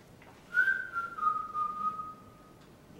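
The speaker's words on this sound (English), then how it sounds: "Why, as simple as whistling." A person whistles on stage during a high school production of The Music Man, holding one long, clear note that slowly drifts lower over a couple of seconds against faint room noise.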